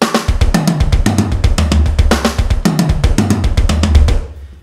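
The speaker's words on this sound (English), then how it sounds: "The fill, at sort of a medium tempo, will sound something like this." Drum kit fill played hand-hand-foot-foot, alternating snare and tom strokes with bass drum kicks at a medium tempo, a steady stream of close, punchy hits ending on a decaying cymbal wash.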